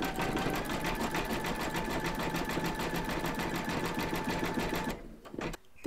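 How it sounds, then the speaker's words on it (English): An embroidery sewing machine zigzag stitching appliqué pieces together in a hoop, running as a fast, steady mechanical chatter close by for about five seconds, then stopping abruptly. "Pop your hoop into your machine and stitch round number 5, and that's going to zigzag along here and join the 2 segments together."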